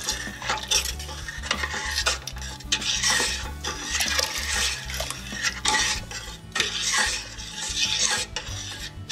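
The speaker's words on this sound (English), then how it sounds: "So while mixing, we're gonna go ahead and add the mixture slowly." Soup being stirred in a metal pot while egg mixture is slowly added for meatball egg-drop soup, with steady scraping and clinking of a utensil against the pot, continuous and close throughout.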